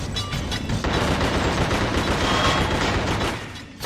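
Gunfire from The Suffering rattles through prison bars in a loud, dense, continuous fusillade of rapid shots that holds steady throughout before tapering off at the very end.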